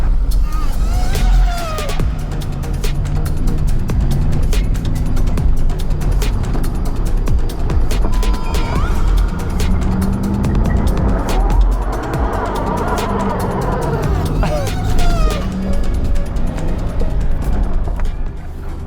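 A Range Rover and a Dodge locked in a tug-of-war, engines roaring and straining continuously under load with tire squeal and skidding, loud and close, with voices talking over the din.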